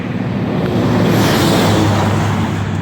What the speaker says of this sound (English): Truck about to come through.